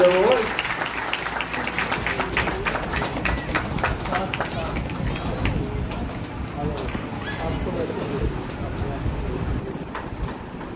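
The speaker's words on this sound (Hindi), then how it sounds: "तालियां फ्री है ना, तालियां बजाने रहो।" Clapping from a crowd at a Shiv Purana religious discourse, rhythmic and fairly strong at first, then loosening into scattered, uneven claps with voices and background chatter mixed in.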